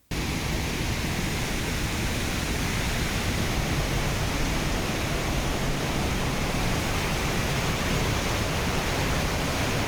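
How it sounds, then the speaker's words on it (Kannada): Floodwater surges forcefully across a road after heavy overnight rain in Vijayanagara district, a loud, steady, broadband rushing roar that holds constant throughout with no pauses. "ರಸ್ತೆ ಮೇಲೆ ರಭಸವಾಗಿ ನೀರು ಹರಿತಾ ಇದ್ದು"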